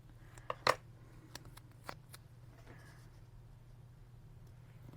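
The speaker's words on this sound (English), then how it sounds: "I'm going to trim off the edge of it so it can kind of bump up against that box" Scissors trim the edge of a paper piece for a planner layout, a few crisp, quiet snips and crinkles over a low steady hum, then near silence.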